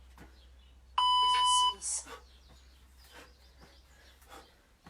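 A workout timer beeps during a live hockey training session, a loud electronic tone pulsing for under a second, followed by faint voices and movement in the room.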